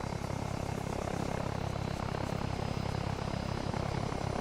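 A helicopter in the Arma video game flies low and sets down near a road, its rotor chop and engine drone steady and loud throughout with no talk over it.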